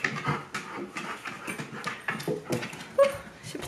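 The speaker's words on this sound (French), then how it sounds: "Hey, beau chien!" A dog whimpers and pants in short, soft bursts, fairly close and quiet, with faint background rustling.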